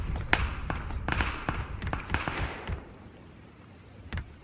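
Scattered sharp gunshot cracks from a video game battle, a dozen or so irregular bangs in quick bursts, fairly loud, then tailing off into quieter background.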